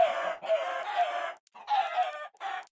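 Chickens in Minecraft cluck in several short bursts with brief pauses between them, sounding close and fairly loud, with no talking.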